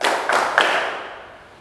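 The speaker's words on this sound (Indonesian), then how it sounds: "Tepuk 1, tepuk 1, tepuk 2," A classroom of students clapping together on a teacher's count, with three sharp bursts of claps in quick succession, the last fading out.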